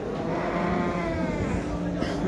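Sheep bleating at an open-air small-livestock market, several overlapping bleats close by under continuous crowd chatter and talking.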